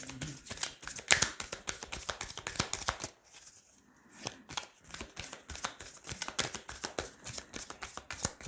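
Tarot cards are shuffled and drawn in a steady run of close, crisp riffling slaps. A brief pause comes partway through before the rapid card handling resumes.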